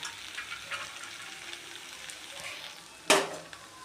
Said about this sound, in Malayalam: ഇളക്കി ഇളക്കി ഇത് വഴറ്റിയെടുക്കണം മൺചട്ടി ആയതുകൊണ്ട് അടിയിലിങ്ങനെ പിടിക്കാൻ സാധ്യതകൾ കൂടുതലാണ്